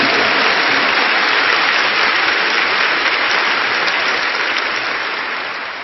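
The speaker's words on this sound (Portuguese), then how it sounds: "aplauda o Senhor por isso." A church congregation claps loudly and continuously at a bilingual worship service, the dense applause filling the room and tapering off slightly at the end.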